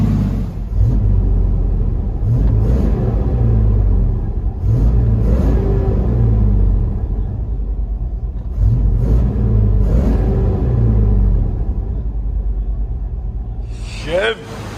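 A 1994 Chevy Silverado 1500 pickup with a 5.7L V8 and Borla Pro XS dual exhaust rumbles steadily with repeated revs rising and falling, heard loud and close, with brief voices and a sharp noise near the end.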